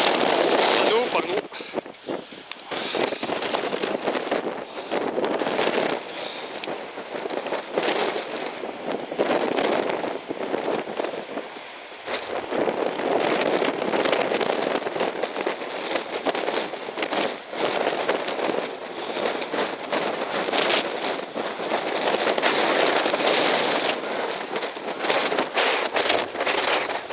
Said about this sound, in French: le vent il pousse très très fort